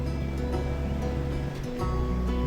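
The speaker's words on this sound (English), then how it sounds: "You can hear the waves," Gentle ocean waves at Bahia Banderas heard from a cruising sailboat, a soft steady wash with a low rumbling undertone and a brief dip midway, no voices.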